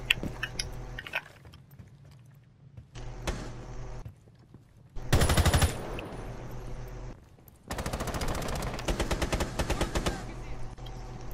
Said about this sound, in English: there's a lot of gunfire coming from there